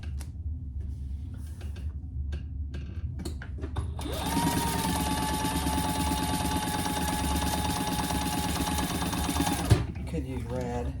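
A sewing machine stitches waxed canvas with burgundy thread, running as a loud, steady whirring hum for several seconds, then stopping, with a few faint clicks and some handling before it starts.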